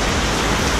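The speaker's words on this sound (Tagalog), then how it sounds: "Grabing ulan. Nag-ulan na." Heavy rain pours down in a dense, loud, unbroken roar with no other sounds breaking through.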